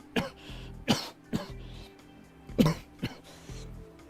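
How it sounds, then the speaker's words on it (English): Several dry coughs and throat-clearing bursts from a player during a livestream of Everybody's Golf 6 on PlayStation 3, spaced irregularly over a few seconds with quiet game audio underneath. "Got a bit of a cough there."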